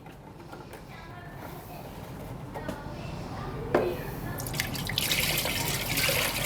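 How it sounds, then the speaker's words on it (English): Philadelphia Water Ice cotton candy mix being poured into a machine, a steady wet trickle and dribble of liquid running continuously at close range, with a splashier rush building toward the end. "So I'll have Angelo pour this product in."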